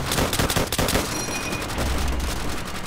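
Rapid machine gun fire from an MG in Call of Duty: World at War, loud bursts at the start giving way to sustained rattling and distant battle noise, with no voices.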